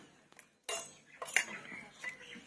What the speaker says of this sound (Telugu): చింతపండు వేసుకొని దంచుకుందామండి రోట్లో బాగా